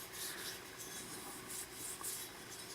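Steady dry rubbing of oil finish into a wooden hammer handle on a restored rusty hammer, a continuous close swishing friction with small swells and no talk.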